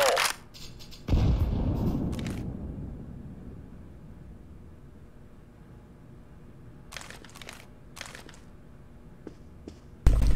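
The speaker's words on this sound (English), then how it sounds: "Fire in the hole." A grenade in CS GO detonates with a loud boom and a rumbling decay, followed by quieter gunfire and clicks, with another sharp burst at the end.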